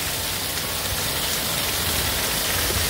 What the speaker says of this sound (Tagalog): Hira ako makakita ng ganitong kalakas na ulan.